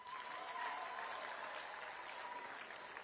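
Steady applause from a crowd in a parliament session, heard faintly and at a distance, a continuous patter of many hands clapping.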